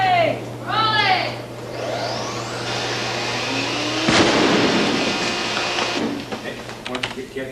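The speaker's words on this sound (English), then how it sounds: "The second explosion is better" A rigged miniature breakaway starship model blows apart in a sharp burst, followed by a sustained roaring, crackling rush of debris and fire that fades over several seconds, with a low steady hum beneath and brief voices early on.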